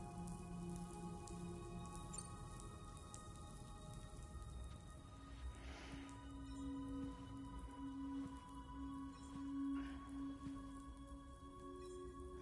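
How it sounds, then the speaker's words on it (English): Soft, steady rain patters in the Death Stranding 2 video game, a quiet continuous wash of drops with faint tonal hums and chirps in the background. "Those raindrops are falling on my head."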